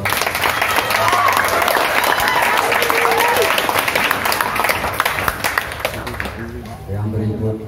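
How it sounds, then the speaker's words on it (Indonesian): Audience applause after a poetry reading at a community arts event, sustained clapping from a crowd that thins and fades near the end as a voice begins speaking. "Tepuk tangan untuk."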